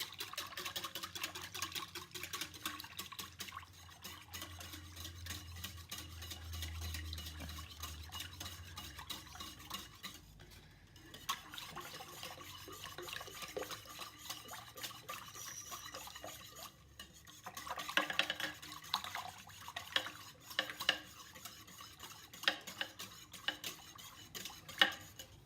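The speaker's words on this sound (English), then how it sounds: "we'll see how long it actually takes to whisk a hot process soap to trace" Hot process soap is whisked by hand in a bowl, a faint continuous scraping and swishing of a whisk against the container with soft clinks, steady and close with no talk.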